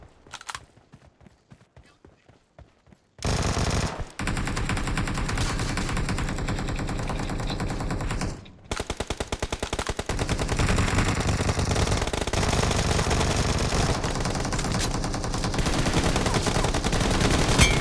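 PUBG video game gunfire: after a few sparse shots, loud continuous rapid automatic bursts run almost unbroken for most of the clip, with a brief pause midway, no talk.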